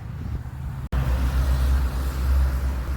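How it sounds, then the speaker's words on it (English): Road traffic rumbles past outside, a low, continuous roar from cars and heavier vehicles, loud and near, briefly cut off for an instant before swelling again. "I apologize about the traffic."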